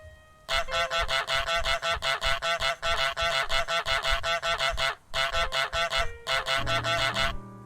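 Cartoonish goose honks from Untitled Goose Game, a long run of loud, rapid repeated honks with a few brief pauses, ending over a soft low musical tone.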